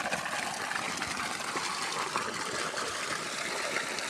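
Water gushes forcefully from a 2.5 inch motor pump pipe drawing from a well, a continuous loud rushing hiss that stays steady from start to finish with no voices.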